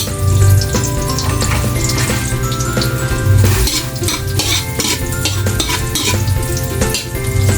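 Garlic frying in hot oil in a pan while being stirred, loud close sizzling with repeated scraping strokes of a spatula against the pan and a low steady hum underneath.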